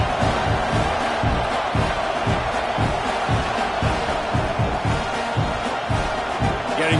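A college football stadium crowd roars steadily after an opening kickoff returned for a touchdown in a Wisconsin–Iowa State game, a dense, sustained wall of cheering and yelling throughout.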